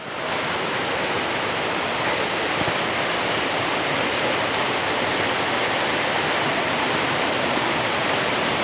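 Loud, continuous rushing of waterfalls cascading along a wilderness creek, a dense unbroken roar that stays steady throughout with no voices.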